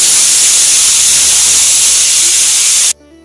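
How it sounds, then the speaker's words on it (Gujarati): A pressure cooker whistle blasting steam in a loud, steady hiss that runs for about three seconds and then cuts off abruptly, leaving a quiet kitchen. "3 સીટી વાગી ગઈ છે"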